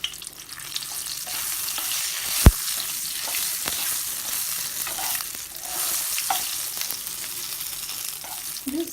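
Whole coriander seeds and dried red chilies fry in hot oil with a soft continuous sizzle, one sharp knock partway through and a few faint stirring scrapes, close and moderately quiet, with no one speaking.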